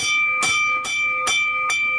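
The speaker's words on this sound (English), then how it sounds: "Ring the bell for that one." A bell rings in four evenly spaced strikes, each a sharp bright hit over a steady sustained ringing tone, fairly loud and close.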